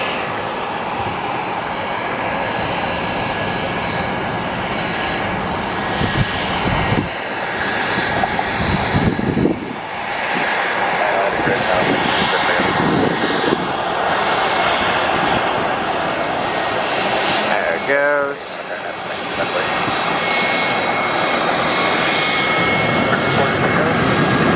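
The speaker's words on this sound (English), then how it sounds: "Here's another 717 taxiing." A Boeing 717 jet airliner taxiing at Atlanta airport gives off a loud, steady engine roar that swells and dips over about twenty-five seconds, with someone talking over it.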